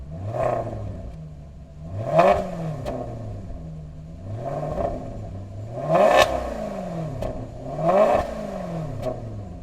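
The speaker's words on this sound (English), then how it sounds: "it's developed by a Ferrari V8 engine that you can find in Ferrari California and Ferrari F430" A Ferrari V8 engine in a Maserati Quattroporte revs repeatedly, rising to sharp howling peaks and dropping back to idle, about five blips in a loose rhythm.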